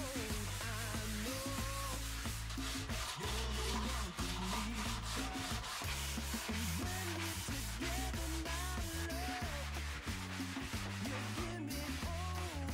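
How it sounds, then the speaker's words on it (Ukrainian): Oiled wood on a handmade nightstand is sanded by hand with 200-grit sandpaper, giving a steady, rhythmic back-and-forth rubbing that runs under continuous background music. "Після повного висихання олії я її шліфую вручну. Наждачкою не менше 200 грит."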